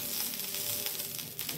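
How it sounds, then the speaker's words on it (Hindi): Oil heating on a hot tawa before a bathua paratha goes on, giving a faint, steady, even hiss with no clear stirring and no talk. "इसमें हम थोड़ा सा ऑयल डालेंगे"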